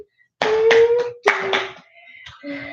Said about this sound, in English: you're clapping so very loud